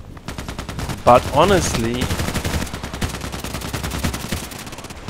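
Rapid, evenly spaced gunfire crackles steadily in the video game Contract Wars, a dense stream of sharp shots, while someone talks over it briefly near the start.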